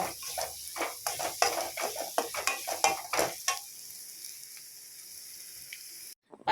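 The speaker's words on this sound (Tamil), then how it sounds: "சேர்த்து எண்ணெயில் நல்லா சிம்மில் வச்சு லைட்டாக வதக்கி விட்டுக்கோங்க" Chili powder sautés in oil over low heat, a soft sizzle under repeated scraping stirs of a spoon in the pan, then the stirring stops and only a faint hiss remains.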